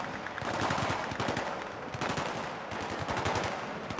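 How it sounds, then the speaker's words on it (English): Enemy machine gun fire in Battlefield 3, a battlefield shooter, rattling in dense sustained bursts with a short lull near the two-second mark, loud and continuous with no talk. "Enemy MG on the bottom floor"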